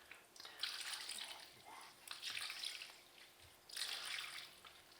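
Water running and splashing from a tap in bursts, fairly faint, with a few gushes separated by quieter gaps.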